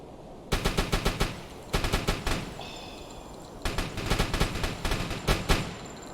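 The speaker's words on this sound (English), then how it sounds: "Trying to shoot that prop." Bursts of rapid machine-gun fire in the submarine game UBOAT, aimed at a propeller plane: four loud, sharp rattling volleys of several shots each, separated by short pauses, close and dominant with no talk.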